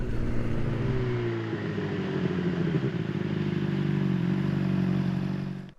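A 2008 Honda CBR600RR motorcycle engine holds a steady, loud drone, easing through gears at around 7,500 rpm while cruising gently. Engine pitch shifts slightly between gears and stays continuous throughout, with no voices.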